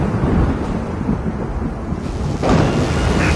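Thunder rolls through a storm in a Star Fox-style flying game. It is a dense, continuous rumble of crackling noise that swells louder partway through and stays loud and close, with no speech.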